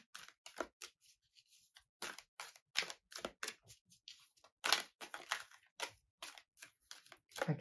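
Tarot cards are shuffled in a quiet room, producing soft, close, irregular riffles and flicks of card stock in short bursts with brief pauses between them, and no voice is heard.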